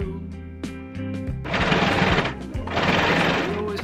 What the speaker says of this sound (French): on va venir coudre deux pinces à l'arrière de cette veste